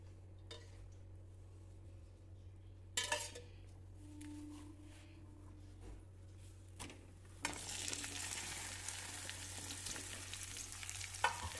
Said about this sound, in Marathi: आता भेंडी भाजून घेऊया अगोदर। तर मी आता भेंडी भाजून घेते। थोडंसं तेल टाकून घेते।